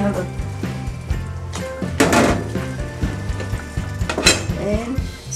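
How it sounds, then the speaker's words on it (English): Beef brisket goes into a pot of simmering beef shank with repeated metallic clanks of utensils against the pot and a brief splashy rush, close and busy, under a speaking voice. "So I'm gonna go ahead and add the beef brisket"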